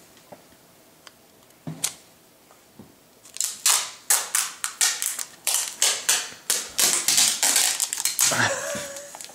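Scotch tape pulled off a roll in quick repeated rips and tears, a series of sharp crackling bursts close by, after a quiet stretch with a few isolated clicks.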